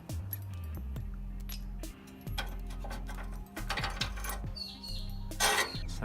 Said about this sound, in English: So I'm just going to grab my ratchet,